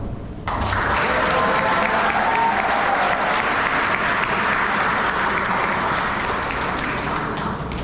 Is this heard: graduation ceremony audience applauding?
yes